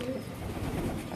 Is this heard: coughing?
no